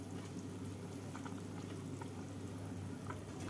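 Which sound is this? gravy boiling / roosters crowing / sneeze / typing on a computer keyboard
gravy boiling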